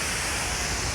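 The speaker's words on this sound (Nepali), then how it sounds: "झरना हेर्नुहोस्" A waterfall pours with a dense, steady broadband roar, loud and unbroken from start to finish, with no voices heard.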